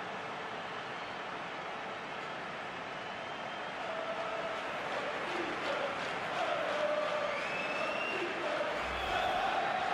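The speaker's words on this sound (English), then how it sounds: "The crowd have gone crazy, and quite rightly so." A stadium crowd in the FIFA 19 football video game roars over a goal, a broad steady wash of cheering that swells partway through and stays loud.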